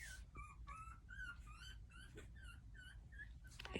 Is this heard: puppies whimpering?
yes